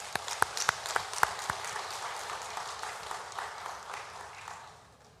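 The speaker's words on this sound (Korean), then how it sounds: "박수로 환영하겠습니다." A church congregation claps during a Sunday worship service to welcome a guest. A few distinct claps open it, then soft, scattered applause continues and fades, fairly distant and quiet.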